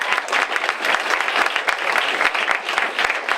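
A campus debate audience gives the College Democrats a big round of applause, continuous dense clapping from many hands at an even level.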